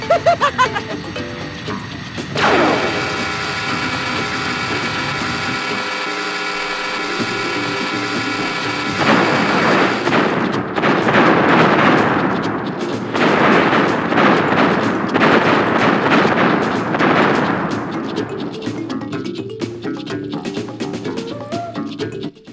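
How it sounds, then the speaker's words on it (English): Cortex's space station being destroyed in Crash Bandicoot 2, a long sequence of loud grinding, ratcheting mechanical clatter followed by a series of rumbling blasts and crashes fading out. "We have destroyed Cortex's space station and the Cortex Vortex."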